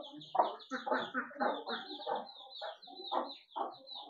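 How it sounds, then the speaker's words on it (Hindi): A hen clucks in short repeated bursts, close by, with bird chatter and a high chirping running over it. "ये लो जी मुर्गी, वो भी आ रही है"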